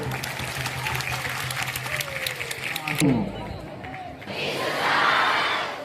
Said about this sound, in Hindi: एक बार जोरदार ताली मार के